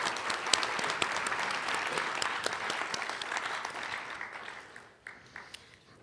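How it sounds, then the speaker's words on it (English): Audience at an awards banquet applauding with dense, steady clapping for several seconds that gradually thins to scattered claps. "We can give him a round of applause."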